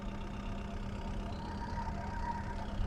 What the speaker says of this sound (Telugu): ఒకసారి ఇంజన్ నాయిస్ వినండి